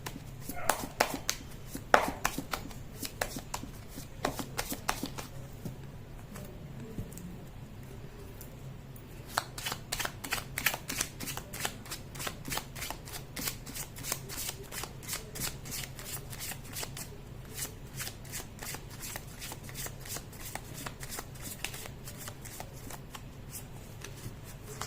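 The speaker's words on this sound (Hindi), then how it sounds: "कर लेती हूँ कार्ड की शफलिंग।" A deck of tarot cards is shuffled over and over, giving crisp riffling and slapping bursts in close, steady runs with short pauses between them.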